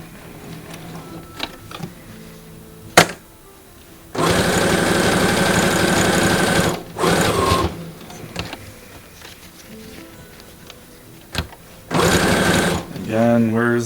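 A sewing machine stitches through an earbud case, running in bursts of steady whirring and rapid needle clatter separated by pauses with small handling clicks.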